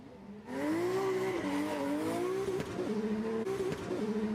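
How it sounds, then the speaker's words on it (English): A drifting car at the Goodwood hillclimb slides with a loud, sustained tire squeal that wavers in pitch as the car swings left and right, engine roar underneath, starting abruptly and carrying on without talk. "Manji is when you go left and right to sort of keep the momentum of the drift going."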